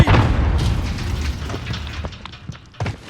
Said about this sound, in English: Throwing grenade!